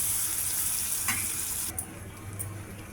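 Capsicum and potato curry stirred in a pan with chili water added, a steady wet sizzle with scraping and splashing that turns quieter and duller partway through.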